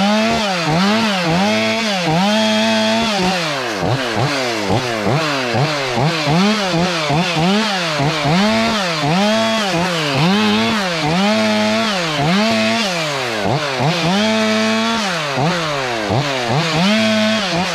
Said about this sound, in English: Where did my chainsaw go?